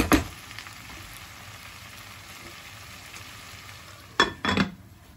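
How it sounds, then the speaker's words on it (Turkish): Chicken with peas and vegetables sautés in a pan, giving a steady, soft close sizzle. It is punctuated at the start and near the end by a few sharp utensil scrapes and clatters. "Şöyle 1-2 dakika bu şekilde kavuruyorum."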